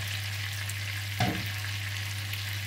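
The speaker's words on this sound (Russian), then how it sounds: "Продолжаем жарить. Наши котлетки обжарились." Meat patties sizzle steadily in a hot pan, a constant close frying hiss with a low hum underneath and one brief scrape.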